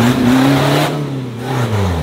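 A 4x4 trial vehicle revs its engine as it climbs an urban obstacle track at a racing festival, the pitch rising and falling over about two seconds.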